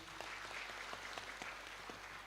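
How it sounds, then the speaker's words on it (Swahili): A church congregation applauding the preacher at a Kikuyu service, a brief, steady patter of many hands clapping at moderate distance with no speech. "Pigia mhubiri makofi."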